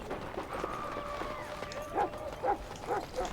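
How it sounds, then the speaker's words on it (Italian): A dog barking in the video game Dragon Age Origins, several short barks spaced at irregular intervals, moderately close, over a low ambient game background. "È il nostro cane che sta facendo casino."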